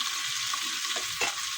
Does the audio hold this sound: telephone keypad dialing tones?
no